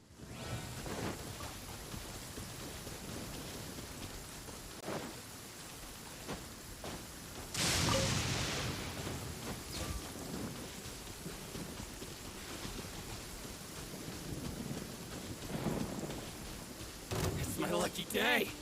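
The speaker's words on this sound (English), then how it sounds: "Oh, it's raining." Rain falls in the video game Genshin Impact, a continuous hiss with a louder burst like a thunderclap partway through, while a person talks intermittently over it.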